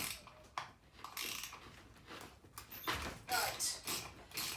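A ratchet wrench works on a pivot ball of a Proline MT 4x4 RC truck, giving quiet, close, irregular bursts of clicking and scraping mechanical ticks.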